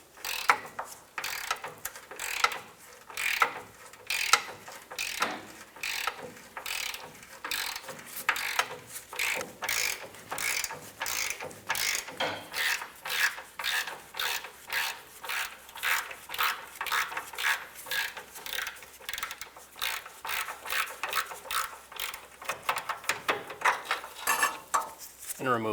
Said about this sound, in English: Using a 14mm deep socket and a ratchet,